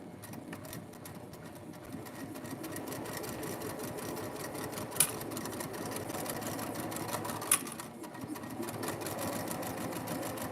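A sewing machine stitching steadily with a fast, even mechanical whir and rapid needle pulses close by, with two brief sharp clicks and no speech.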